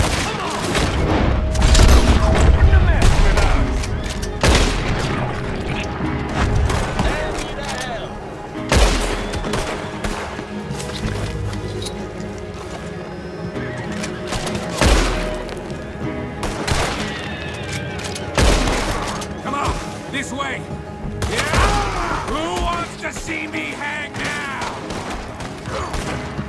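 A prolonged gunfight in Red Dead Redemption 2, with sustained volleys of rifle and pistol shots, booming blasts and mechanical clatter throughout, loud and close, with occasional shouted voices mixed in.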